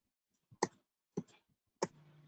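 A few separate computer keyboard keystrokes, sharp close clicks spaced about half a second apart, the last one followed by a faint low hum, with no talking.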